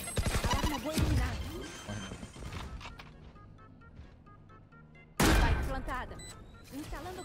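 A grenade explodes in a video game amid bursts of gunfire, with heavy booming impacts and a loud blast near the end, while players talk and shout over the action.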